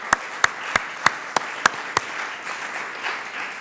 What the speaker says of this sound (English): I would love to just give a round of applause to all of our fabulous speakers today.